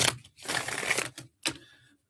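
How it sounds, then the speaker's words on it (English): A deck of rebel-themed reading cards being shuffled by hand: a dense burst of riffling clicks, a short pause, then a second quicker riffle, close and fairly loud, with no talking. "So let's shuffle up and get into it."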